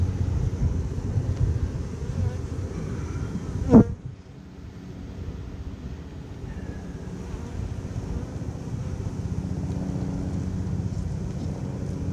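Honey bees buzz continuously as a colony is shaken into a box during a removal job in Portland, a dense steady drone with one sharp knock partway through.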